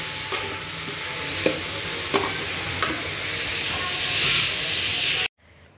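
Food roasts in a pan while being stirred, a steady close sizzling hiss with occasional scraping knocks that cuts off sharply near the end.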